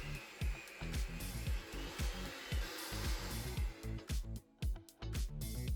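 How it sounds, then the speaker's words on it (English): Electric hand mixer beating a thick cream cheese filling with onions and parsley for chicken taquitos, a steady motor whir with rhythmic thumping as the beaters knock the bowl, briefly pausing near the end. "I'm switching to a hand mixer."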